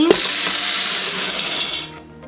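Two pounds of dried black beans pour into an Instant Pot as a dense, steady rattling cascade of hard beans against the metal insert, running loud and continuous for about two seconds before cutting off.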